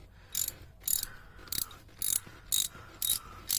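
A ratchet wrench loosening the coolant temperature sensor on a B18B1 Integra engine, six evenly spaced bursts of rapid clicking close by, with quiet gaps between.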